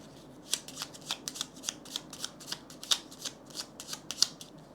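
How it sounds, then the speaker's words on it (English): Cards being shuffled during a Paladins of the West Kingdom board game: a run of crisp, close riffling snaps and flicks in quick irregular bursts, fairly quiet, with no talk. "it's just going to grab a worker and shuffle"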